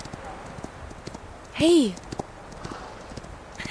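A horse in the video game Reverse: 1999 keeps up a steady galloping clatter of hooves, close and continuous, while a voice shouts briefly midway and speech starts at the end.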